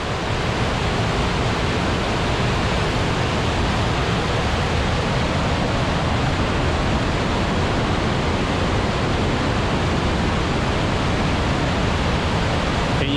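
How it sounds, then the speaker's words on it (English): A river roars steadily over rocks at Bulls Covered Bridge, Connecticut, a dense, loud, unbroken wash of noise with no voices or pauses. "Hear that roaring water sound coming down?"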